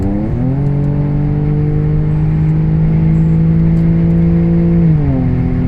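An Audi car engine hums steadily and close while driving on a road, its pitch shifting as it changes lanes and accelerates, with a smooth, unmodified factory-power tone and no talk.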